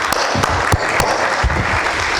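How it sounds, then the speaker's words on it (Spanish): An audience at a Oaxaca government forum on poverty and the 2030 Agenda gives a loud, steady round of applause to welcome a speaker to the podium, with a few sharper individual claps. "Les pido se unan conmigo para recibirla con un fuerte aplauso"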